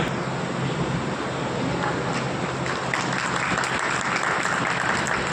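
A crowd at an award ceremony gives loud, sustained applause to welcome a guest, a dense, even wash of many clapping hands that continues unbroken for about five seconds.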